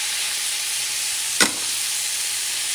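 Onions and garlic fry steadily in a hot pan, a continuous broad sizzle with a brief sharper crackle burst midway, heard up close with no talking.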